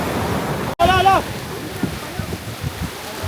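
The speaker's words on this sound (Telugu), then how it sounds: "అలలు మాత్రం చాలా గట్టిగా వస్తున్నాయి" Broad wash of strong ocean surf rolls on steadily behind a burst of voices, waves churning continuously at moderate loudness.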